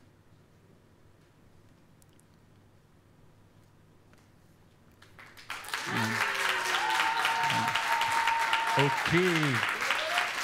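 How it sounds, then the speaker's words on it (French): Audience applause for the poet Djilali at a spoken-word semi-final in Limoges swells in after a quiet stretch and carries on loud and dense, with a voice speaking over it. "on peut l'applaudir encore s'il vous plaît Djilali"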